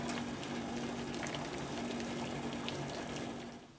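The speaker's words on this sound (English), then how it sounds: "we've got the water boiling." A pot of water rolls at a boil around a submerged MRE pouch of chicken with tomatoes and feta, a steady bubbling hiss with a faint hum underneath, easing off slightly at the end.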